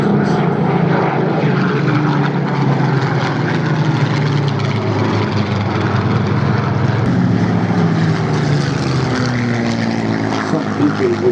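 A large-engined propeller warbird flies past at the Duxford Flying Legends airshow, a loud, steady engine roar filling the whole clip, with faint voices in the crowd beneath it.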